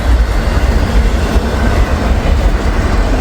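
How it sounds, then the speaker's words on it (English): A long freight train with auto rack cars rolls slowly past on a snowy day, a loud, close, continuous rumble and rattle of wheels and cars with a steady low roar and no voices. "It's a big train."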